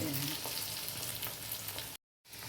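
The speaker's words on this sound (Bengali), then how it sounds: "এবার আমার এগুলো ভাজা হয়ে গেছে উলট পালট করে দিয়েছি" Chhana (cottage cheese) koftas fry in hot oil, giving a close, steady crackling sizzle with small pops throughout; the sound cuts out briefly near the end, then resumes.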